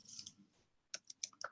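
Close, crisp computer clicks and light key taps come in a quick cluster of five or six short ticks after a brief, softer rustle.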